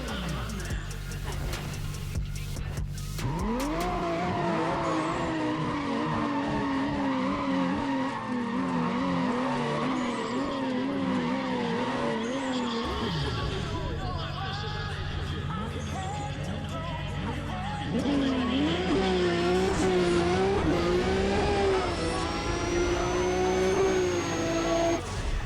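Race cars in a drag race in Need for Speed ProStreet, including a Supra: loud engines rise and fall through repeated gear shifts, with tyre screeches and revving throughout, growing louder near the end.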